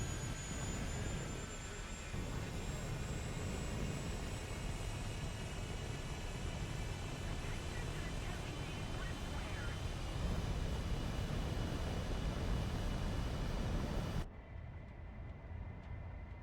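An aircraft engine in the War Thunder video game gives a steady, loud droning roar throughout, its upper hiss cutting out abruptly near the end while the low rumble continues.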